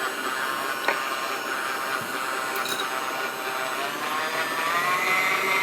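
A stand mixer runs on low speed, beating strawberry pound cake batter, a steady mechanical whir and hum with faint clicks, continuing evenly and slightly rising near the end.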